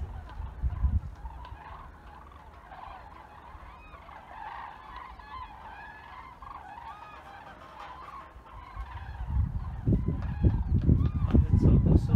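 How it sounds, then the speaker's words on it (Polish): Geese call overhead outdoors in spring, a flock of honking voices carrying through the middle of the scene, with louder bursts of wind or handling noise at the start and end. "to są gęsi"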